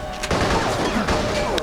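Gunfire in the video game Metal Gear Solid, a quick cluster of sharp reports with echoing tails over game music and background noise.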